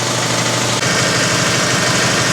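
An air compressor runs steadily while filling its tank after a tank swap, with a loud, continuous mechanical chugging drone and no talking.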